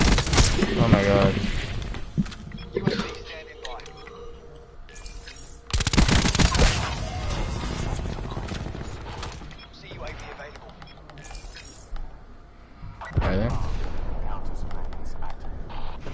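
Video game gunfire with bursts of rapid automatic shots and heavy booming volleys, loud and dense at times and thinner in between, while several players talk excitedly over the shooting.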